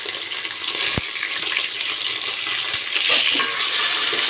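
Chopped onions frying in a pan for chicken biryani give a steady close sizzle and hiss, with a couple of sharp clinks from stirring and no talk.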